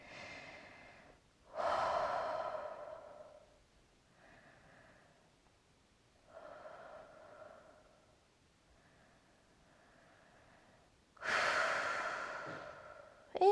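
Slow, deep breaths during yoga, drawn in and let out audibly close by, a few long inhales and exhales separated by quiet pauses.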